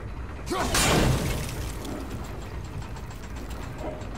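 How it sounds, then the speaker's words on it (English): Turning gears of a mechanism in God of War grind and clatter in a loud mechanical burst near the start, then settle into a steady low rumble of machinery. "You could freeze those gears if you wanted to."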